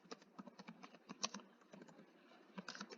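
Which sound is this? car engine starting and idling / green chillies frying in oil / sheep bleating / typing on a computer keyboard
typing on a computer keyboard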